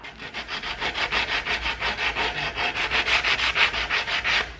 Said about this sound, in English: we need to sand this a little bit to get any of the loose wood off, or any slivers or splinters that are gonna be sticking out